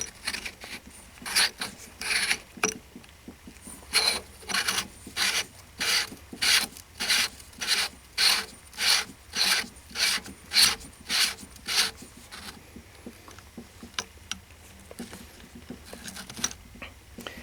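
A Rock River AR pistol buffer tube is screwed in by hand, making a rhythmic series of short rasping thread scrapes, about two per second. The strokes are close and clear, then grow sparser and softer toward the end.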